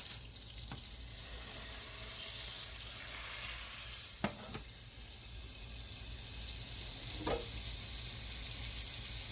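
Butter heats in a hot pan for stir-fried veggies, giving a steady bright sizzling hiss that swells after the first second and holds, with a few sharp clicks or knocks scattered through; no talking.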